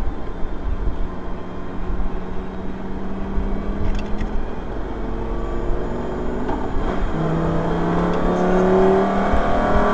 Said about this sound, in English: it really pulls down on the engine braking when it takes the low again